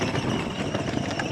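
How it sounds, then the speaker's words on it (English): A pickup truck engine running close and loud, a dense steady rumble with no clear revving or breaks, no voices over it. "ripping it up on his truck."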